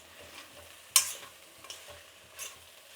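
Ridge gourd and onion cooking in a pan for chutney: a few soft stirring scrapes over a faint, low sizzle, close and quiet.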